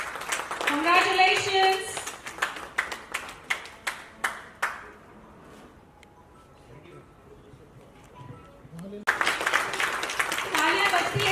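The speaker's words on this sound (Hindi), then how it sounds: "So round of applause" Scattered, uneven clapping from the audience at the International Global Achievers Award 2021 ceremony, followed by a near-silent gap with a spoken voice, then a fresh burst of fuller applause.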